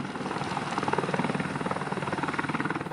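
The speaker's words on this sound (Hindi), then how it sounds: "भारतीय वायुसेना के बेड़े में अपाचे AH-64E लड़ाकू हेलीकॉप्टर शामिल होने से इसकी ताकत में और इजाफा होगा।" Apache AH-64E combat helicopter heard up close, its rotor beating in a steady rapid thump over a continuous loud engine roar with no voices.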